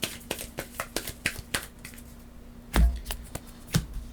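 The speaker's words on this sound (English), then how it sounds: "Let's shuffle this up." A deck of cards from the Everdell Silverfrost board game is shuffled close by: a quick run of crisp, evenly spaced card snaps, then a heavier bridge-like flutter and one last snap, with no talking.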